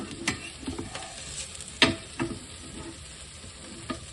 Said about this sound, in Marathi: त्याला एक छान क्रिस्प टेस्ट येण्यासाठी आपण त्याला छान असं शॅलो फ्राय करून घेऊया.